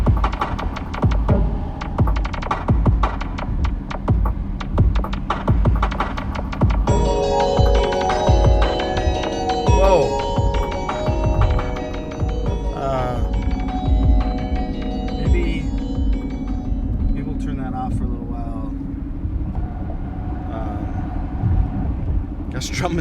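An electronic beat from a drum machine throbs steadily with a deep low pulse and repeating hits, joined partway through by layered synth tones, playing loud and continuous with no talking over it.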